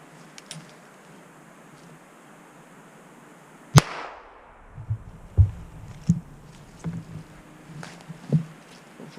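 Ruger Wrangler single-action revolver fired in the woods: one sharp, loud crack followed by a short ringing decay, then several quieter clicks and knocks of handling in a quiet outdoor setting.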